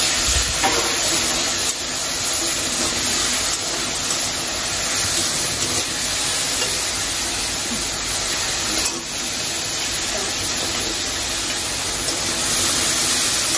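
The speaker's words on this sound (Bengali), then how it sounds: "চিংড়ি মাছটা তেলের উপরে দিয়ে দিচ্ছি, কারণ এটা ভাজা ভাজা হবে।" Prawns fry in hot oil with a loud, steady, dense sizzle and spitting hiss that runs unbroken, close up, with no talk over it.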